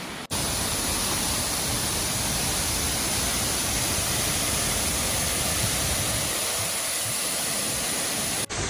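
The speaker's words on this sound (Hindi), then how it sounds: "रिटर्न आते वक्त ना ये वाटरफॉल ने काफी अच्छा एक रूप ले लिया है" Loud, steady roar of a monsoon waterfall on the Harishchandragad trek, a dense broadband rush filling the whole clip without pause and with no voices.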